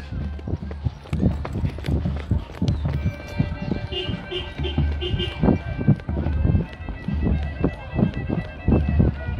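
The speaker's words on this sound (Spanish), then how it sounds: "montado pues en un caballo." Hooves of a ridden horse clip-clop steadily at a walk through a crowd in Andahuaylas, Apurímac, Peru, close and rhythmic under a voice and crowd chatter.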